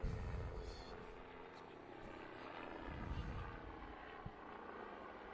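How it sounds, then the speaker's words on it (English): A helicopter drones in the distance at a rally stage, Rally Otago in New Zealand, with a faint, steady rotor thrum and broadband rumble, low in level and continuous. "Sounds like our helicopter's just arriving."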